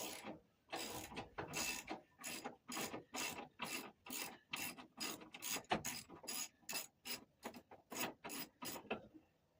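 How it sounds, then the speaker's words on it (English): A hand ratchet turns a bolt during patch panel welding work on a car body, clicking in a steady run of about twenty sharp strokes with brief pauses between them, close and loud with no talking. "Still prefer using a regular ratchet sometimes."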